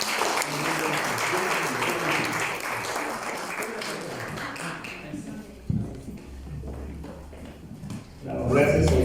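Sustained applause from a church congregation for baptism candidates fills the first half, then fades into murmuring voices and scattered claps before a louder swell at the end.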